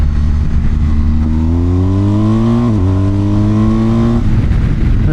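A BMW R1250GS motorcycle accelerates hard in winter riding, its close engine note climbing steadily through the gears with a brief dip at a shift before the revs drop off, loud and continuous with no talk.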